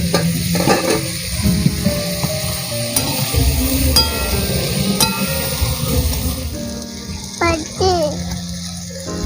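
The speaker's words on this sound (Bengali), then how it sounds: "দেখো মা এগুলো সাঁতলে নিচ্ছে।" Potato and radish sizzle and get stirred in a pan while being sautéed for a tangra fish curry, a steady frying hiss with scraping stirs throughout and a voice briefly audible.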